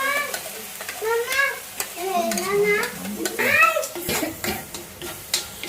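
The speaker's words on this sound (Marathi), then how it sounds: "आपला मसाला तिखट टाकलाय. स्लो गॅसवर मस्त परतून घ्यायचा आहे" Spicy masala sautéing in a pan for village-style chicken, a soft sizzle with stirring scrapes running beneath a person talking through most of the stretch.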